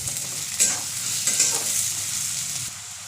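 Grated coconut fries and sizzles in a pan, heard close and steady, with a few stirring scrapes through the hiss.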